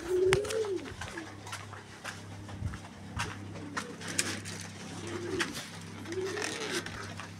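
Fancy breeding pigeons kept with their young coo in a loft, several low rising-falling calls repeating near and moderately loud over a steady background hum and scattered clicks.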